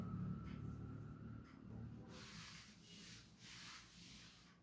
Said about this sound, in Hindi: तो हम इस पार्ट को रब करते हैं।